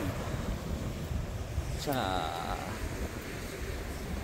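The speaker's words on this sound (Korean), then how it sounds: "자, 파도가 많이 치는데요." Ocean waves break and wash over coastal rocks at Ayajin on the Korean coast, a steady loud roar with wind noise on the microphone, and someone briefly speaks over it.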